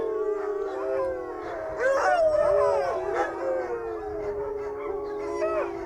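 Sled dogs at a dog-sledding expedition outfit in Maria, Quebec, howling together in a sustained, wavering chorus of overlapping pitched wails that rise and fall without pause, fairly close and with no talk.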